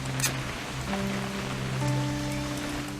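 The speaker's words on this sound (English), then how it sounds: "It's gonna rain the whole weekend, isn't it?" Steady rain from a video game patters continuously with a dense, hissing texture, while faint low tones hum underneath throughout.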